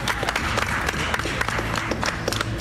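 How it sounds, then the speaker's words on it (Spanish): A crowd claps loudly and steadily at a boxing weigh-in event, brisk dense applause heard close up, with a few brief sharper claps standing out. "Un aplauso para César, que va al sexto."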